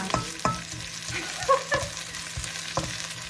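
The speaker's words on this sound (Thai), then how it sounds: "ผัด หอมแดงกับกระเทียมให้หอมค่ะทุกคน" Shallots and garlic being stir-fried for pad thai, a close sizzle broken by repeated scraping strokes of a utensil against the pan at an irregular rhythm, with no speech.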